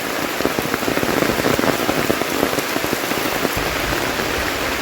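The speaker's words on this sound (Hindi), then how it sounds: "बहुत तेज़ बारिश हो रहा है, बहुत तेज़।" Heavy rain drums steadily on leaves and surfaces in Chandur Forest, Hooghly district, a dense, close patter with scattered louder drops throughout.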